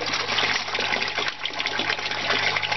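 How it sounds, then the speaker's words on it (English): Water siphoning through a pipe into an aquaponics sump, a steady full-band rush and gurgle that runs continuously and fairly loud, close by, with no talking. "Already starting to siphon."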